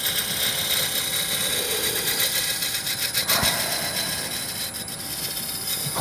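A tool rounds off a wood corner on a lathe, a steady whirring hiss of the spinning workpiece with scraping texture and a brief sharper crack midway, close and continuous.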